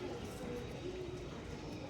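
Andhra pigeons of the chocolate doma type cooing at a home loft, a low soft throaty coo held steadily over a continuous background hum, fairly quiet and with no clear pauses.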